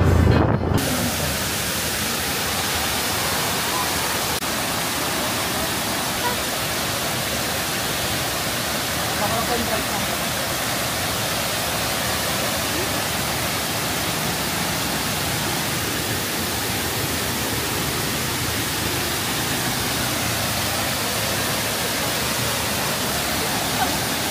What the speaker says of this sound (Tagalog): Nakikita ko na yung falls.